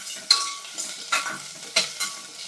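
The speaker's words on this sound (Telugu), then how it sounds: "ఇవి మంచిగా నెయ్యిలో వేగాలి" Small cut potato pieces fry in ghee with a light sizzle, punctuated by about four distinct stirring strokes of a spoon through the pan at a slow, even rhythm.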